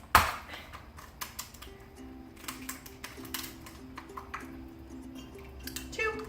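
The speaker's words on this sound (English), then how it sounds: "I'm gonna throw in 2 ice cubes." Ice cubes dropped into hot kombucha tea give a sharp splash at the start, then scattered small ticks and crackles over a steady low hum, close and fairly quiet.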